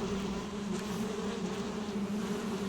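Bees hum in Valheim, a continuous close droning buzz with steady pitch and no break, heard alone.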